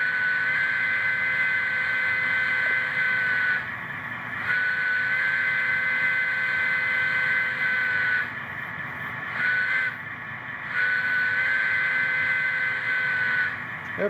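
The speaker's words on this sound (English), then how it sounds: "F2 is horn." Electronic horn from a Rapido FL9 N scale model locomotive, several sustained blasts of varying length with brief gaps between them over a steady background engine hum, close and moderately quiet.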